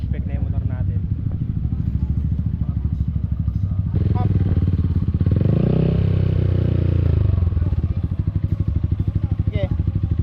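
Motorcycle engine running steadily up close during a pre-ride inspection for an adventure-class mountain range endurance tour, with the engine note rising and holding louder midway under clatter.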